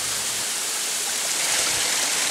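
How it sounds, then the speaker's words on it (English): Waterfall pouring down the upper section of Thurat Rift canyon at Kanangra in New South Wales, at normal flow: a steady, dense roar of falling water, close and loud, unbroken throughout, with no voices. "We start the upper section of Thurat Rift with an abseil of about 40 metres down the side of the waterfall."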